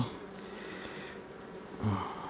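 A honeybee buzzes close by as it returns to the hive during an inspection of new splits, a steady, even drone that swells briefly near the end.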